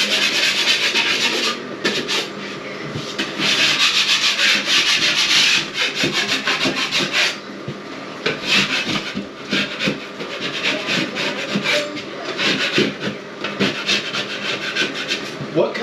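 Sandpaper rubs back and forth on a wooden surface in a bathroom, a close, rasping scrubbing in uneven strokes with brief pauses between passes.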